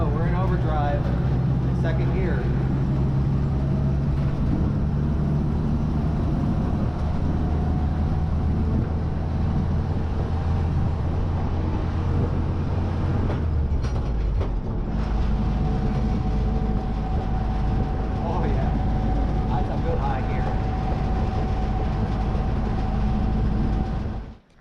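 A Willys Jeep driving in second gear, a loud steady low engine drone with road and wind rumble, a brief shift-like dip around fourteen seconds, then steady again until it cuts off at the end.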